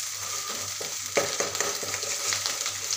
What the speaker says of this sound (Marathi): आणि कांद्याचं वाटण घालून हे सर्व मस्त असे तेल सुटेपर्यंत मिक्स करून घेऊ।